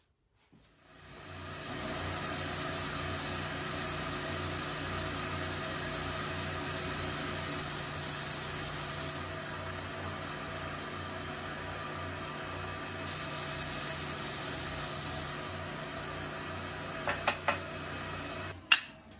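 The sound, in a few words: belt sander sanding finish off wooden guitar blocks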